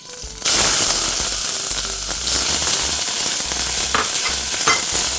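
Chopped onion hits hot olive oil in a saucepan and sizzles loudly right away, settling into a steady crackling fry with occasional stirring sounds close up.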